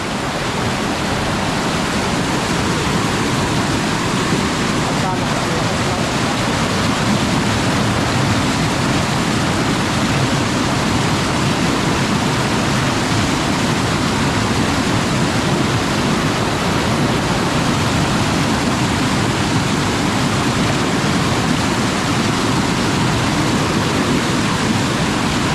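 Rushing water of a stream or waterfall roars strongly and continuously, a dense, loud, unbroken wash of sound close by with no talking.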